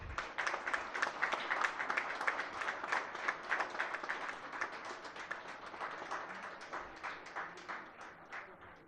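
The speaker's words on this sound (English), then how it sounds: "Let us give them a big round of applause." Applause for a team at a Telangana event with the chief minister, a steady run of crisp, fairly close clapping from a modest group, gradually thinning toward the end.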